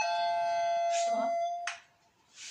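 Doorbell chime ringing in a tablet video game, a clear electronic tone held for about a second and a half, with a voice talking over and after it.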